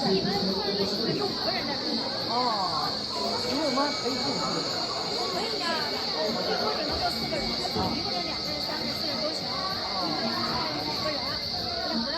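Katoomba Scenic Railway in the Blue Mountains, a steep 310-meter line, giving a steady rumbling run with a constant high hiss while passengers chatter throughout.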